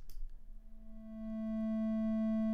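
Sine wave doubled in amplitude and clipped in Max/MSP, a steady buzzy tone rich in harmonics that swells in after a faint opening and holds loud and constant to the end.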